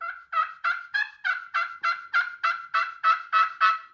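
A steady run of about a dozen evenly spaced turkey yelps from a glass slate friction call, clear and close with no voices.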